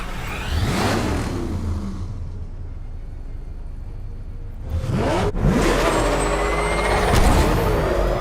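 A military vehicle roars past in a Batman: Arkham Knight pursuit, its engine swelling loudly, fading, then a second vehicle sweeps by with a sharp burst and revving engine noise, no talking.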